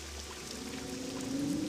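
Water sloshing in a pool in a video game set on a plantation; a brief, soft continuous pouring and rippling sound with a faint rising tone, no talk.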